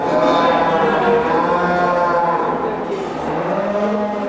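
Cattle low and moo loudly and close while being unloaded at a livestock market, long drawn-out calls overlapping through the whole stretch.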